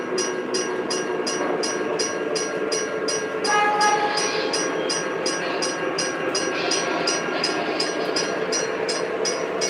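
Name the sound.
MTH Rail King model train with Proto Sound 3 running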